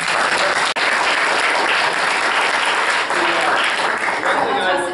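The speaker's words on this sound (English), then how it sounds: "Can we have another round of applause?" Sustained applause from a town board meeting audience, dense and steady clapping filling the room for several seconds without pause.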